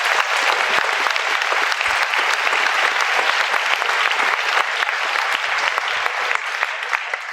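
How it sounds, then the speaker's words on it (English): A school assembly crowd at a Veterans Day program claps for the student council, a loud, dense burst of applause that holds steady and tapers slightly at the close. "So how about a round of applause for our great student council?"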